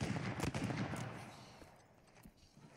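Rapid gunfire from a weapon in the video game Uncharted 4, a dense burst of sharp shots that gradually thins and fades, with faint voices talking underneath.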